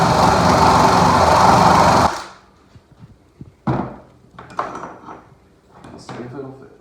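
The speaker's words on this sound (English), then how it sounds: "I'm basically just going to center the paddle bit." A paddle bit drills through a hole that was first drilled at 1/2 inch, a loud continuous whir for about two seconds, then stops, followed by faint knocks and handling sounds.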